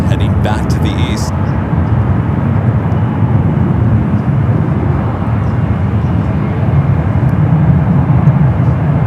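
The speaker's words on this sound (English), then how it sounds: "Delta 767-400ER, the flight heading back to Atlanta, making that bank turn, heading back to the east." Delta 767-400ER jet banking after takeoff from San Francisco airport, a steady broad engine roar held at constant loudness throughout, with a brief faint click near the start.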